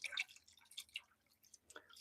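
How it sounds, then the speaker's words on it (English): Honey water poured into a container while brewing a black forest berry mead gives soft, close liquid drips and splashes that come in uneven bursts, with no talking. "So into that, we're going to pour our honey water."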